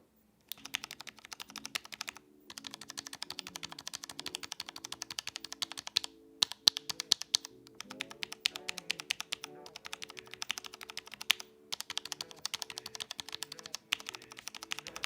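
Steady presses of 2U keys on a Tofu 65 custom mechanical keyboard with a brass plate, close and crisp, in quick irregular bursts with brief pauses, some louder thocking strokes standing out.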